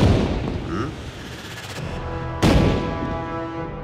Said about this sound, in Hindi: एक कदम भी अगर आगे आए तो ट्रक में आतिशबाजी शुरू हो जाएगी